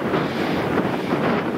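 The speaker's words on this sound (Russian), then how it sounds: "И почему-то здесь всегда ветер." Wind blows across an open quarry near Aleksandrovka, a steady, loud rushing roar as gusts buffet the microphone, with no other sounds standing out.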